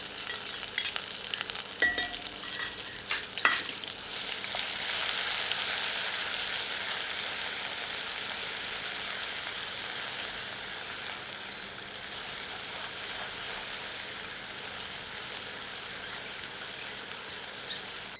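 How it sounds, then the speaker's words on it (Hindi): Ground garlic and green chillies fry over medium heat, a steady sizzle that swells after a couple of clattering stirs early on, then stays constant and moderately loud. "अब इसमें पीसा गया लहसुन और हरी मिर्च डालकर मीडियम हीट पर 1 से 2 मिनट फ्राई करते हैं"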